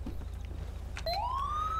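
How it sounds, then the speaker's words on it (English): A modded police siren on a Crown Victoria in Grand Theft Auto 5 starts up partway through, a single rising wail climbing steadily and holding loud over a low constant engine rumble. "we'll go back in the Crown Vic, and then we'll test out the siren"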